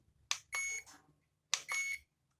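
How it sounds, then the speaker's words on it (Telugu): A WACO clamp meter set to continuity gives two short electronic beeps about a second apart, each a bright tonal chirp, clear and close against near silence. "ఇది బీప్ సౌండ్ వస్తుంది కంటిన్యూటీ సింబల్."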